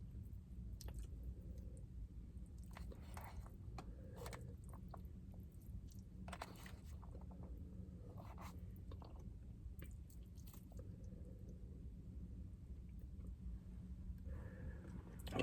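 Close, quiet chewing of Panda Express food with vegetables during a mukbang, with repeated soft wet bites and squishy mastication throughout.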